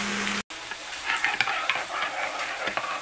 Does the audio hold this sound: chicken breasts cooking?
yes